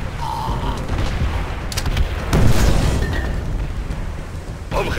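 Heavy booms and blasts from artillery fire in Call of Duty: World at War, several impacts over a continuous rumble of battle with Spanish-speaking voices mixed in.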